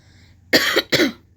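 Two sharp coughs in quick succession, close and loud, after a brief moment of quiet.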